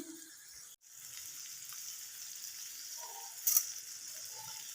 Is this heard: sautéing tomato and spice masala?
yes